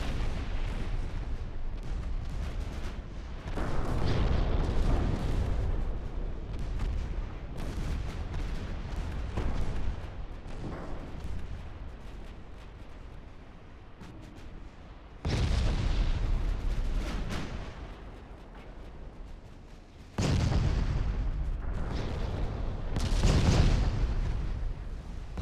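Warship guns fire in the naval battle game Ultimate Admiral Dreadnoughts as heavy, booming salvos. Several loud blasts roll over continuous rumbling distant gunfire.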